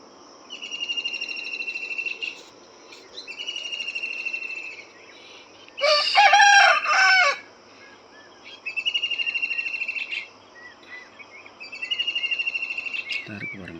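A rooster crows once, loud and nearby, over a backdrop of repeating insect and bird chirps.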